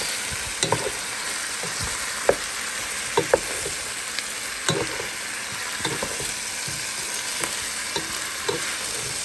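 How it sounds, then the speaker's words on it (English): Pork fries with onion and garlic in a pan, a constant bright sizzle punctuated by repeated sharp spatula scrapes and taps at an uneven rhythm, close and clear, with no one speaking. "We're going to saute and fry the pork with the onion and garlic."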